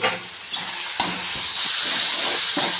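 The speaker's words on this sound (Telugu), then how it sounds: "మళ్ళీ ఇది ఒకసారి కలుపుకోవాలి" Spice paste of pounded coconut and salt with coriander fries in a pan while being stirred, a dense hissing sizzle broken by a few scraping strokes and clicks of the spoon, no voices.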